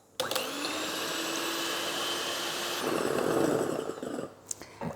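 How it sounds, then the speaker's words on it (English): Two egg whites are beaten with an electric hand mixer toward soft peaks for a 1970s festive ginger cake, a steady high motor whine that starts abruptly, shifts pitch and grows rougher midway, then cuts off near the end. "I take clean dry beaters and the 2 egg whites from earlier, and I'll beat these until soft peaks are forming"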